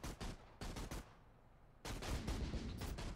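Troops fire guns in the Invasion Machine video game: rapid bursts of gunfire crackle in quick clusters, fall quiet for a moment, then resume in a longer, denser volley.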